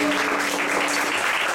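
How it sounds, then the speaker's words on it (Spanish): Dense, loud applause from a crowd at a jazz jam session honoring Chick Corea, a continuous wash of clapping greeting the drummer. "Alex, en la batería, un aplauso."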